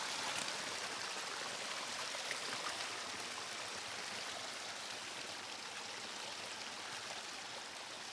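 Water from the hills runs in a small stream with little waterfalls near a full dam, giving a constant broadband rushing and splashing at an even level, with no voices.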